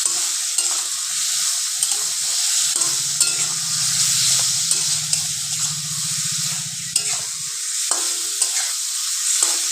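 Ginger-garlic paste and spices fry and sizzle in a pan with steady broadband hiss, stirred throughout, with occasional clinks of a utensil on the pan and a low rumbling burst midway.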